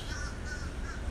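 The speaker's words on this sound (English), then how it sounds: "just saw a swarm of black crows" A swarm of black crows calls out with three drawn-out caws in a row, moderately near, over steady low background noise.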